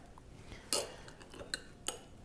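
A knife spreading red raspberry preserves on a sandwich gives faint scraping and three light metallic clinks against a jar or plate, close and quiet, with no talking.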